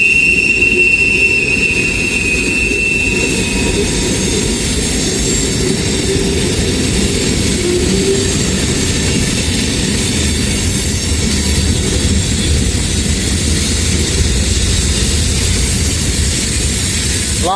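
A long freight train loaded with potash rolls past close by, a continuous loud rumble of wagons and wheels with a high squeal early on, and no talk.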